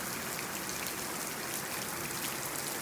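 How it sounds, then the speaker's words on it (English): Steady rain falls in a dense, even hiss of drops hitting surfaces around an outdoor van engine work area, with no talk over it. "Maybe I'll stop working on it until the rain stops."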